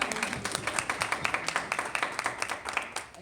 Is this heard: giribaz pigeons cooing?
no